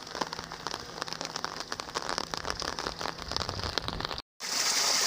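Heavy rain pours steadily onto surfaces outdoors on a farm with ducks and chickens, a dense continuous hiss with scattered drop impacts, broken by a brief dropout near the end before the downpour resumes loudly.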